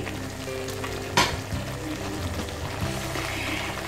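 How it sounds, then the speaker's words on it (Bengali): Cardamom and a split bay leaf fry in oil in a pan for a salmon korma, giving a steady close sizzle broken by one sharp scrape or clink partway through, with no talking. "এখন এটাকে ভালো মতো আমি ভেজে নিচ্ছি"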